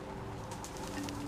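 Birds coo softly in the first-person puzzle game Antichamber, a faint, low repeated cooing over a constant steady hum.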